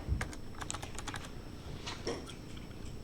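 Keys on a computer keyboard tap out code for a React to-do app in a quick, uneven run of close, crisp clicks, with no voices.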